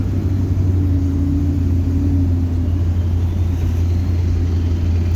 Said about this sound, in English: An old Targa, Porsche.